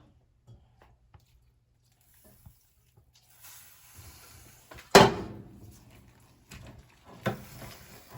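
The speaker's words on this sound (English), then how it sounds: "So I'm just gonna add more water." Water is poured into a fufu mixture, a faint trickle and splash building to one sharp burst near the middle, then softer wet squishing and a second splash, with quiet handling sounds before.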